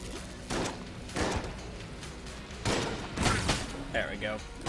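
The mass shotgun in the video game Enter the Gungeon fires in a few heavy booming blasts at irregular intervals, each a broad thudding burst, with a voice talking between the shots.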